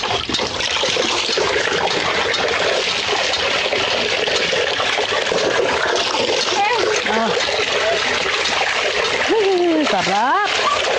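Water splashes and sloshes steadily during a child's bath, continuous and close, with a voice and squeals rising over the splashing toward the end.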